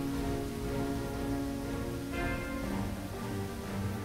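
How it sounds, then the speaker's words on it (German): Steady rain falling in the Lost Horizon adventure game, a dense continuous wash of patter with faint tonal ambience underneath, no talk. "Wenn der Regen nicht nachlässt, wird das Fass bald überlaufen."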